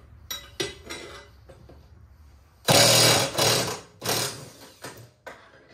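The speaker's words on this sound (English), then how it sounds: "this is just a Makita half inch impact, not a Gorilla Gun Milwaukee" A Makita half-inch impact wrench removes the blade bolts from a Scag Turf Tiger 2 mower deck: several loud, rattling hammering bursts of about a second each, separated by short pauses and quieter mechanical clinks.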